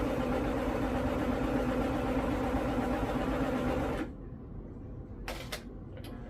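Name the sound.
sewing machine stitching a DIY dress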